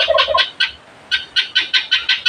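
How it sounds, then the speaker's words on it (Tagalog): Turkeys on a turkey farm gobbling close by, a quick burst of calls followed by a steady run of six or seven rhythmic gobbles, loud and clear with no talk over them. "Kasi ito yung mga pabo natin."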